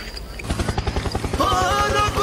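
Rapid, even chop of helicopter rotor blades from a video game helicopter potion, a steady pulsing beat that swells and gains a rising whine partway through, with game noises around it.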